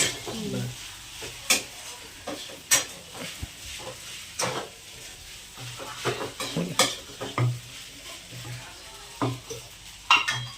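Sabudana khichdi being stirred in a pan, a run of close, loud scrapes and metallic clanks from a spoon against the pan in irregular bursts over a low sizzle, with no talking.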